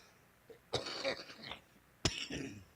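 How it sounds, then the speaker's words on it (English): Two sharp, raspy coughs close up, about a second apart, each a rough burst trailing off, with quiet room tone in between. "As you can tell, I've still got this annoying cough."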